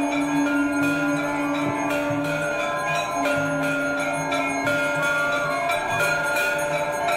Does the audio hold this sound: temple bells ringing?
yes